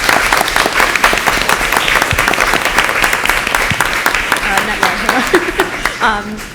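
Audience at a school board meeting breaks into a loud, steady round of applause that lasts several seconds, then thins out toward the end with a few scattered claps and a little chatter.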